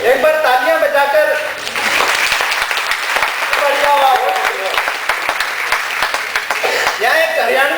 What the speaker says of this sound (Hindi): एक बार तालियां बजाकर